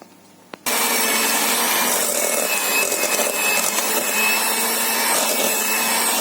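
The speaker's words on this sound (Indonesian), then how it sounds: "Jadi ini di mixer dengan kecepatan tinggi ya, kecepatan nomor 3 sampai dia mengembang" An electric mixer at high speed whirs loudly and steadily through sponge cake batter, starting abruptly after a short quiet moment and running unbroken to the end.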